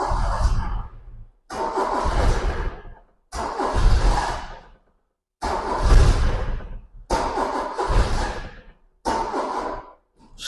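A Talbot Samba GLS with a flat battery cranking over repeatedly, six loud near bursts of labored starter churning separated by short silent pauses, with no catch.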